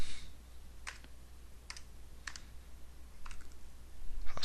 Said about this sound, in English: if I was to type this in